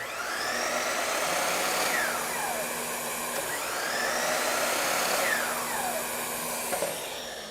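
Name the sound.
miter saw running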